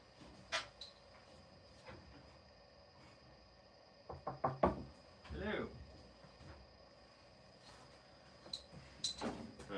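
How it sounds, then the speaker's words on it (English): Several sharp knocks on a door in a quiet room, a short close cluster near the middle of the clip with a few lighter taps before and after, heard alone without talk. "Someone's knocking. Who's that? Who's at the door?"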